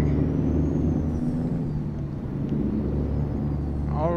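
Trucks from an AI traffic sound mod in American Truck Simulator: a steady, loud diesel engine rumble with a faint high whine and an air-brake-like hiss, continuous throughout without talk.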